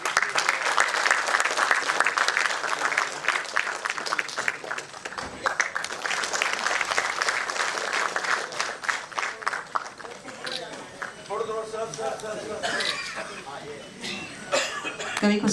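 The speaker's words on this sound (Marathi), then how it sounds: "सुरेश प्रभू सरांसाठी एकदा जोरदार टाळ्या." An audience at a Marathi book-launch event for Suresh Prabhu gives loud, sustained applause that thins out over time, with a few coughs and murmurs, and a voice speaks near the end.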